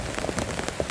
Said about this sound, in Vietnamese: Bây giờ đang mưa rất là to.